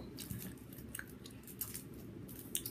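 Cry Baby extra-sour candy being chewed close up, soft squishy mastication with occasional sharper crunchy bites over a low noisy background, no talking.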